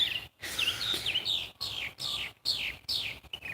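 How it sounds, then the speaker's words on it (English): Birds sing outdoors in a string of clear, high chirps and sweeping whistles, broken by short gaps over faint background hiss. "Oh, I do love listening to the birds sing."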